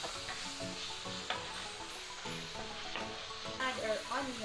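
Ground beef, nearly browned, sizzles in a pan with salt and pepper while a spoon scrapes and stirs it in a steady rhythm. The sound is close and moderately quiet, with no speech.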